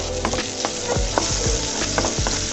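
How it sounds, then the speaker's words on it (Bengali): Chopped onion and a few pieces of minced garlic stir-fried in oil, a steady loud sizzle with repeated scraping and clacking strokes of a spatula against the pan, close up and with no voices. "পেঁয়াজগুলোকে সুন্দর করে আমি নেড়ে ছেড়ে নিব"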